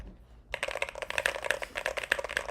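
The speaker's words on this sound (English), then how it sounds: "So this is my old keyboard. It's a Keychron Q4." Typing on a Keychron Q4 mechanical keyboard, the same mods as a Moonlander: a brisk, steady run of close, crisp keystrokes starting after a brief quiet moment, with no talking.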